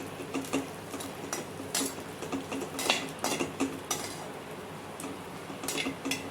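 Cashews and pistachios being stirred as they roast in a pan, giving steady, close metallic scrapes and clinks of a spoon against the pan, with short sharper knocks repeating in an irregular rhythm and no talking.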